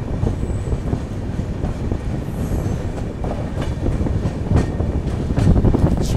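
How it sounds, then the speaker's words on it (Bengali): A passenger train pulls out of Tihu station on the Kolkata to Dibrugarh run, a steady, loud, close rail rumble with wheel clatter and faint squeals, no voices. "ছেড়ে দিল আমাদের ট্রেনটি টিহু স্টেশন থেকে"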